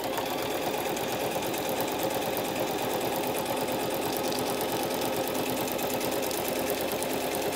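A sewing machine runs steadily with a fast, even mechanical whir and rapid needle clatter, close and continuous with no talking.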